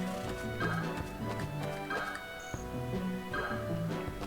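Hooves clip-clop in a steady walking rhythm over a looping game music track, the horse sounds modest and mixed under the melody.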